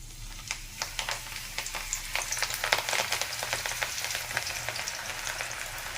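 Spinach pakoda batter crackles and spits in hot oil as pieces drop in, a dense run of sharp sputtering pops over a low background hiss, close by and without speech.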